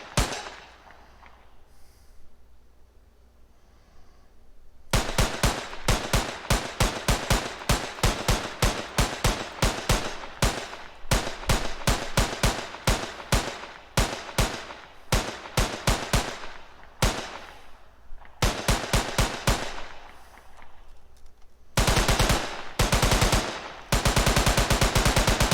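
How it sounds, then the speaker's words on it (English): Rifle fire from soldier enemies in an Unreal Engine 4 game, with long rapid automatic bursts and clusters of sharp shots separated by brief pauses, loud and close, slightly varied from shot to shot. "New gunshot sound."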